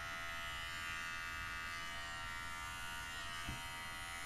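A Braun cruZer 5 beard and head trimmer runs with a constant, loud electric buzz and a steady high whine, unbroken throughout with no talk over it.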